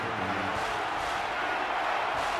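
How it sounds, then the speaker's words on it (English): Stadium crowd roar in the NCAA 14 college football video game, Auburn at LSU, a steady dense wash of cheering and noise holding at even loudness throughout, with no clear separate voices. "The crowd really making it difficult."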